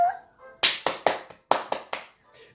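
Hands clapping about eight times in a loose, uneven rhythm, sharp and close, after a brief hum at the start.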